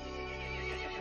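A horse creature in Resident Evil Village lets out a loud, sustained whinny that fills the whole moment, rich and tonal with a slight waver, standing alone without speech.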